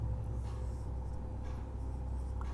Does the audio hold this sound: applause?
no